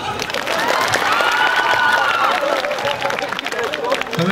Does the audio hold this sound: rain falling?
no